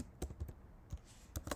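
Keys clatter on a computer keyboard as text is typed into a file, heard as a handful of close, sharp taps in small bursts with short gaps, alone in a quiet room.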